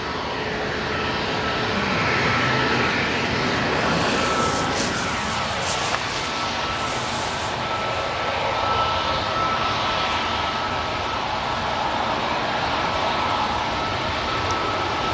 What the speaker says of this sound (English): our next departure is starting to make a move on the runway